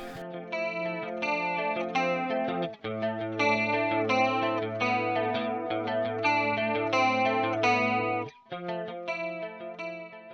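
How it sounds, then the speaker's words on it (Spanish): An electric guitar plays a post-punk part through a chorus effect pedal, giving a shimmering, doubled, slightly detuned tone. Sustained chords and ringing single notes continue steadily, with a brief drop near the eight-second mark. No one speaks. "El chorus también es un efecto bastante icónico del post-punk"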